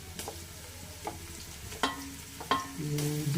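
Ingredients for chicken biriyani being sautéed in a pan, with soft sizzling under sharp intermittent scrapes and clinks of a spoon stirring, close and fairly quiet.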